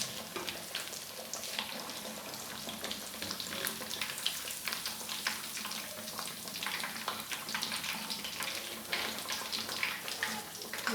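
Fish frying over high heat in mustard oil crackles and spits loudly, a dense, bubbling sizzle that stays even for the whole stretch with no voices.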